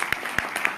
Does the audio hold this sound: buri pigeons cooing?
no